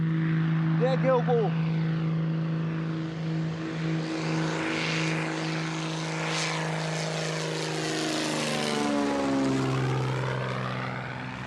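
Small propeller airplane descending toward a landing field at Cape Maclear, Malawi, with a loud steady engine drone and shifting propeller tones throughout; a person speaks briefly near the start over the engine.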